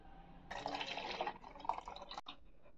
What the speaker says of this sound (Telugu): ఒక కప్పుకి 3 కప్స్ ఆఫ్ వాటర్ వేస్తున్నాను ఇక్కడ